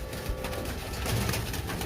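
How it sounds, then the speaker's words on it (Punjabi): Pigeons coo in a busy bird market at Shahdara, Lahore, soft throaty calls close by over a constant low murmur of the crowded market. "ਇਹ ਵੇਖੋ ਜਨਾਬ ਹੋਰ ਕਬੂਤਰ ਵੀ ਆਈ ਜਾਂਦੇ ਪਏ ਨੇ"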